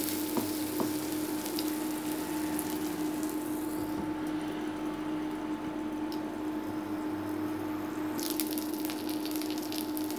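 Stuffed bread cooking in a pan after being flipped gives a steady, close sizzle with a constant low hum beneath it, running without a break and with no talk.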